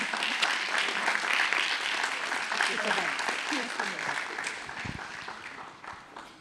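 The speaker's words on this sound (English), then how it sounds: "let's have a clap hands for Lena Hjelvallen" Sustained audience applause for a keynote speaker at a social democracy summer school session in Korčula, a dense crowd of many hands clapping steadily and then tapering off toward the end.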